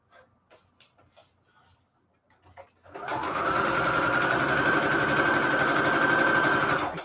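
Sewing machine stitching shabby chic fabric onto receipt paper starts up after a few seconds of quiet handling noises, then runs as a loud, steady, continuous whir to the end.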